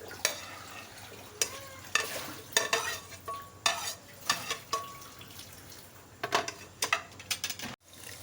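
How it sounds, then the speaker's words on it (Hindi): Spice mixture stirred and frying in hot oil for a liver (kaleji) curry, with repeated scraping stir strokes and sizzling at close range, no talk. "ये सब मसाले का मिक्सचर है जिसको मैं जो तेल है उसके अंदर में डाल के ये पका रही हूँ।"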